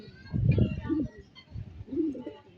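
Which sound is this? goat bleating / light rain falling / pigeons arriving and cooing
pigeons arriving and cooing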